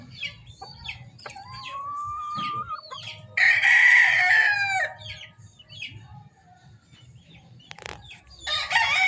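Polespark Gray gamefowl roosters crowing and clucking at close range, one long loud crow standing out midway among shorter clucks and calls, with a steady low rumble of background noise beneath.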